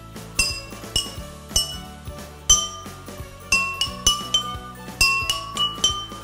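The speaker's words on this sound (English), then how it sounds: "I've got different glasses here that actually have different amounts of water in them. And you should hear that they make a different pitch." Glasses holding different amounts of water struck one after another like a xylophone, each clear ringing clink at its own pitch, about a dozen strikes in an uneven melodic rhythm, close and fairly loud with short decaying tones.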